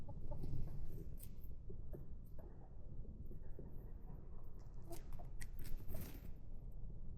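Hens out on an open pasture cluck softly and on and off, fairly far away, over a low outdoor rumble, with a few sharper chirps and clicks mixed in.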